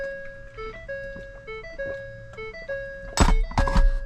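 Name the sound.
new Ford truck warning chime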